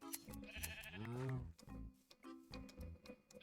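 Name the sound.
sheep bleating in Minecraft, a video game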